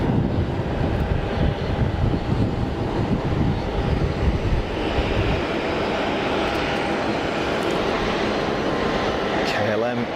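A KLM Boeing jet at Geneva Airport, a loud continuous engine roar holding steady before thinning slightly, with someone speaking over the noise.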